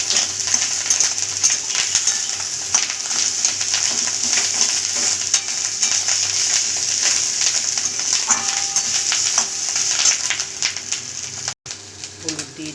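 Sliced ginger and garlic sizzle in hot oil, a dense, steady crackling hiss that runs close and loud almost throughout, with faint stirring taps before a brief cut near the end.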